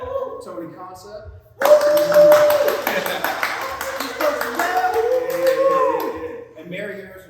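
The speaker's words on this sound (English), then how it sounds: "Let's get a round of applause." Applause from an audience at an art show's closing event breaks out suddenly and loudly, then holds steady with whoops and voices mixed in before easing slightly.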